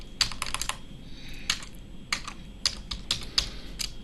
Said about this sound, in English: Going a bit crazy with my typing here.